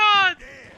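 A single sharp, high horse whinny rings out in a video game, bright and loud for a third of a second before dropping away into quieter rustling.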